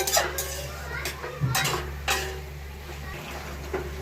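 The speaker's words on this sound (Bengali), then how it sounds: "এবার এটাকে ভালো করে নেড়ে নেড়ে জলটা শুকিয়ে মাখা মাখা হয়ে যাবে" Pea greens with small shrimp being stirred in a pan, a spatula scraping and clinking against the metal in irregular nearby strokes over a low steady hum, with no talk.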